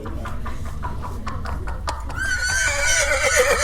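Horses in a stage play, with a run of close hollow hoof clops followed by a loud, shrill, wavering neigh in the second half, over a faint background murmur.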